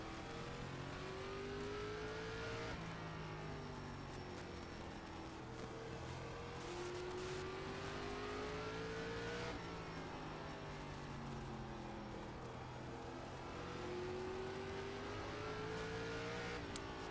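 A race car in a racing video game accelerates around the track at Lanier, its engine droning steadily and rising in pitch through repeated gear climbs, constant and moderately loud.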